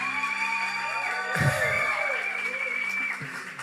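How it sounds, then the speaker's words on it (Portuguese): Church congregation cheering and whooping for child karate medal winners, a loud crowd roar that swells, holds and slowly fades, with shouts standing out above it. "Vamos aplaudir os meninos aqui?"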